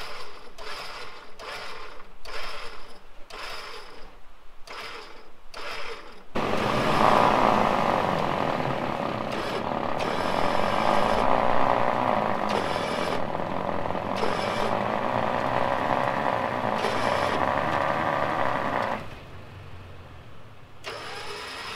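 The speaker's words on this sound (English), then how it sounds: "Now what we got going on here is the winch is doing its job just fine." A hidden winch on a Toyota Tacoma pulling in its line: a few short ratcheting bursts, then a sustained mid-pitched motor whir with mechanical grinding for about twelve seconds before stopping, no speech.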